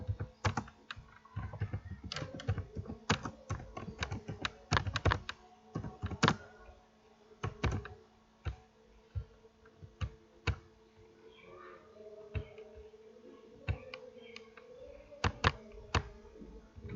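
Fingers tapping out a name on a computer keyboard while working in Microsoft Word, a quiet close run of irregular clicky keystrokes with short pauses in between, no voices.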